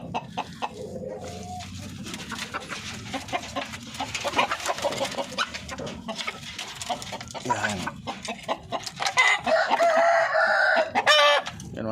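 Darag native chickens cluck and crow close by in a busy coop. The calls rise to louder, dense squawking toward the end, with a person talking briefly underneath.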